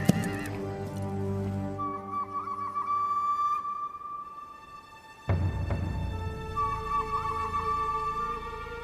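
A horse neighs loudly, then another long whinny follows, with hooves shifting and stamping close by between the calls.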